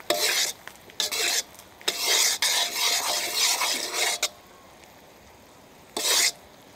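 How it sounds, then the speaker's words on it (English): A spatula rasps and scrapes against a pan in short, loud bursts while fish sauce is stirred in, with quiet pauses between strokes and a final scrape near the end. "I'll stir a little bit to let that fish sauce smell, the aroma coming out"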